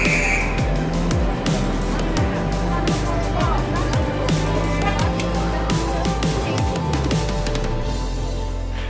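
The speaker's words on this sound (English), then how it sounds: "It's a van, you just pile in and they take you wherever you need to go." A collectivo minibus van drives through Patzcuaro in Michoacan, Mexico, its engine and road rumble steady and loud throughout, heard from close by with a busy, continuous wash of traffic noise.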